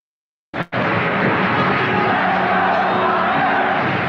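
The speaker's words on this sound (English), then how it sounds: "The applause is for the magnificent performance by Bernie Perrant." A live crowd bursts into sustained applause and cheering after a short silence, a dense, loud wash of clapping and whoops that carries steadily to the end, greeting a performance by Bernie Parent, the two-time Stanley Cup champion with the Philadelphia Flyers.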